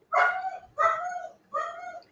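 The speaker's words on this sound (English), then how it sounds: "Can you hear that dog?" A dog close by barks three times in a steady rhythm, each bark drawn out into a whining yelp, excited as someone arrives home.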